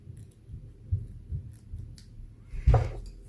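Paper scissors trim ribbon tails at an angle on a handmade card, giving several soft, quiet snips spaced irregularly and ending in one sharper, louder cut, close up with no talking.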